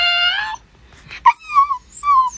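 A dog urged to bark responds instead with high whining yips and whimpers, a long drawn whine followed by short squeaky cries, close and clear with no talk over them.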